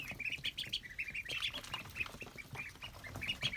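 Small farm ducks quack in a busy, overlapping chatter, close and steady across the short stretch with no one speaking.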